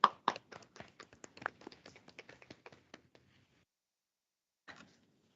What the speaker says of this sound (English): we could give a small round of applause for all of our new attorneys